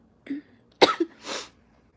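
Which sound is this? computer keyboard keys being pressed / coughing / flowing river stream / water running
coughing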